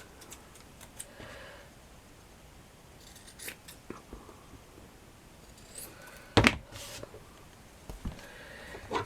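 Scissors trim fabric for a handmade flower wall plaque in a series of short, close snips and faint rustles, with a louder cluster of crisp cuts near the end and no talking.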